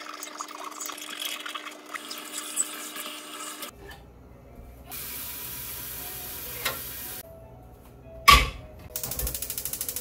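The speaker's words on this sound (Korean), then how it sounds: "잠깐이라도 저렇게 잘 있을 때 좀 젖병 세척 좀 해야 될 것 같아요" Running tap water pours and splashes while baby bottles are washed at a home sink, a broad steady rush with clattering bursts and an abrupt change partway through.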